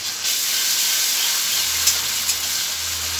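Browned onion with ginger-garlic-green-chili paste sizzles loudly in a pan while being stirred, a steady close hiss of frying throughout with a couple of small clicks near the end.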